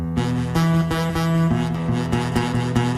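Guitar chord strummed repeatedly with the strings not pressed down hard enough, giving a buzzy, choked tone. About eight even strums sound close and moderately loud, without speech.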